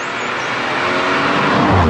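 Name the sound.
BMW M140i engine driving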